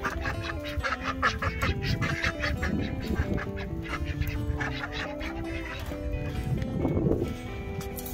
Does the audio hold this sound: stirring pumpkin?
no